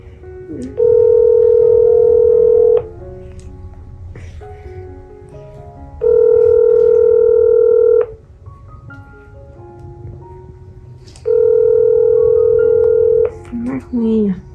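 Telephone dialing tones sound while a phone call is placed, three long steady tones of about two seconds each separated by short gaps, clear and loud over a low background murmur.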